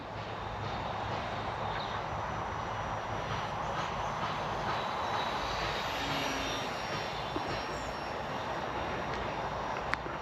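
A steady, even electric hum of a small VolantexRC Trainstar RC trainer plane buzzing overhead, constant and unchanging throughout with no voices.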